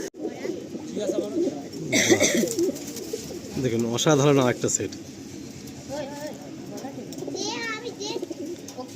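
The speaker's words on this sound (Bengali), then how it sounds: "আমরা এরকম সাদা পায়রা প্রচুর দাদার লফটে রয়েছে" White pigeons coo and flutter in a loft of about fifty pairs, their soft throaty calls close by under someone talking throughout.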